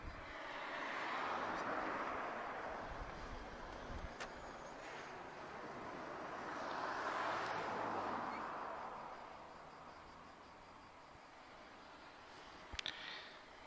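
An Emirates airliner arriving at Lisbon Airport rumbles from a distance as a broad, faint roar that swells twice and fades between, with a sharp click near the end.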